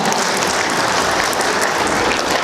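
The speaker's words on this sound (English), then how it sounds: "give yourselves a round of applause." Steady, dense applause from a conference audience at a firearm freedom gathering fills the room, continuous loud clapping from many people without a break and no voices over it.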